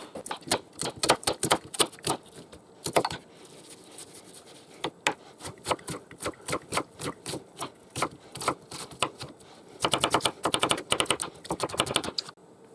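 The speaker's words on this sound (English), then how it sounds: "And that's the onion nice and finely chopped." A knife chops an onion finely on a board in a home kitchen, with rapid, irregular clusters of crisp taps in quick bursts and short pauses, close and fairly quiet.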